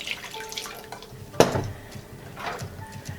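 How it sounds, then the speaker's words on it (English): Very hot water poured over glass jar toppers with rubber seals makes a soft splashing trickle, close and quiet, with a sharp clink of the jar and lid partway through. "I have some very hot water here, and I'm going to pour it over"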